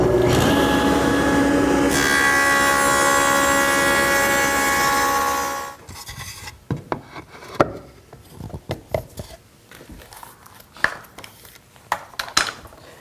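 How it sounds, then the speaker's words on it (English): A table saw fitted with a Freud dado blade set makes a test cut. It runs with a loud, steady, whining drone that rises in pitch partway through, then winds down and stops, leaving faint clicks and handling noises. "make another test cut and see what I get"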